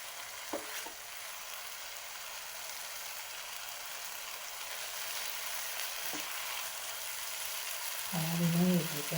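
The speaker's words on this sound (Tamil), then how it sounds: "இப்போ கொஞ்சம் நெய் விட்டுக்கலாம்." Ghee hits a hot pan while apple halwa cooks, and a soft, steady sizzle runs throughout with a few faint clinks, before a voice briefly speaks near the end.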